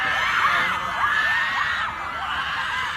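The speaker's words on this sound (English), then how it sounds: "My goodness, the screams." A crowd of fans screaming at a Paris Fashion Week Dior show, a dense, sustained wall of high shrieks and cheers from many voices, loud and continuous throughout.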